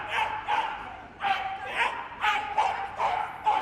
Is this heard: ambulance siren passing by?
no